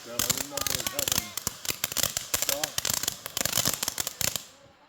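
July 4th fireworks pop and crackle in rapid, dense bursts for several seconds, with people talking among the bangs.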